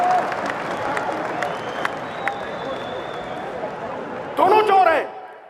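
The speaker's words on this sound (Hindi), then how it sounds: "ठोको ठोको, ताली ठोको।" A large crowd at an outdoor political rally gives a steady wash of applause and noise, with a speaker's voice heard over it and a louder swell near the end.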